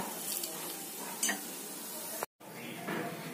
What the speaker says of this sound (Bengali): এইভাবে প্রতি কটা পিঠে আমি একটা একটা করে ভেজে নেব